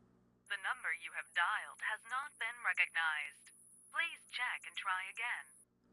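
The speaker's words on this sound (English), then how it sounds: "I reach for my phone and dial her number." Phone dialing followed by an automated number-not-recognized message in a visual novel game: a tone runs steadily under a clear recorded voice speaking in short, evenly spaced phrases.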